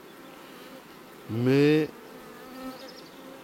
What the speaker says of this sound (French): Beaucoup de vieilles abeilles encore là.